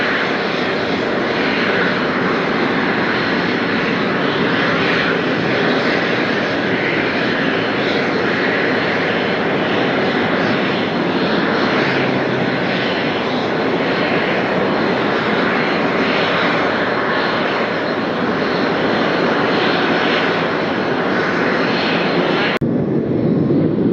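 A turbojet aircraft roars on takeoff in windy Las Vegas, its engine noise a loud, steady, broad rush that holds evenly throughout and ends abruptly, with no voices.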